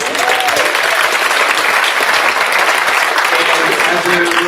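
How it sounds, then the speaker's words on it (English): Steady audience applause fills a university College of Education talks event, dense and sustained clapping from a room of people for the full stretch, with some voices mixed in. "So let's give everyone a round of applause again."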